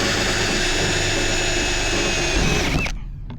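A power drill runs steadily in a cramped camper van during a build, a loud continuous whine that winds down and stops near the end.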